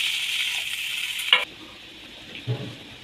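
A loud, hissing sizzle from frying masala curry in a pan cuts off sharply as water is poured in, leaving a quieter simmer with a soft knock of a utensil.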